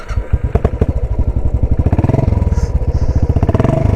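A Royal Enfield Classic 500 single-cylinder motorcycle idles up close, a loud, steady thumping beat that quickens slightly as the throttle is blipped partway through.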